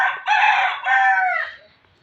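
A rooster crows once, close and loud, a single drawn-out call that fades at the end, with no other sound around it.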